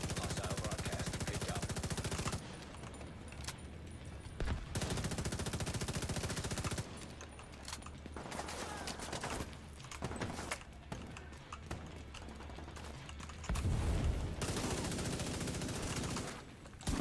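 Rapid gunfire bursts from a video game shooter, dense automatic volleys in several loud stretches broken by brief quieter gaps, with no talk over them.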